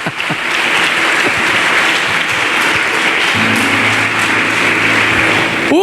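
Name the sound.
church congregation applauding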